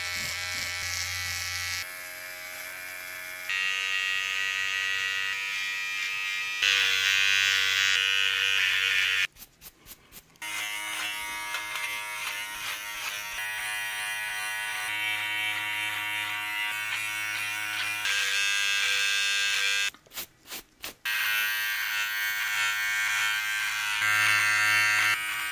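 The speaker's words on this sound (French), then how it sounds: "Ici, je vais aussi retirer avec la tondeuse et ensuite je vais faire les finitions." An electric beard trimmer buzzes continuously up close, its pitch shifting as it moves, with two brief pauses where it switches off.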